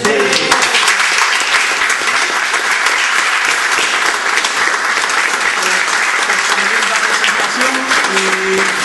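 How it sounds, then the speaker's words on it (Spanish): Applause from a gathered audience honoring a guest, dense and sustained clapping that holds at an even, loud level throughout with no break. "arrancamos un aplauso a Lynn"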